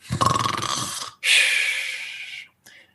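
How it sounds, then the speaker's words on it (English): Two heavy snores from a sleeping person, a rough rattling inhale followed by a long harsh exhale, close and loud, then a brief faint breath after a pause. "your body falls asleep and you start snoring."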